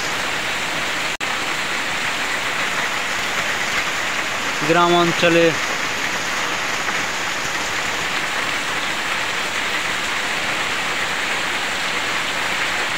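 Heavy rain pours steadily over a village, a dense even hiss throughout, with someone speaking briefly partway through.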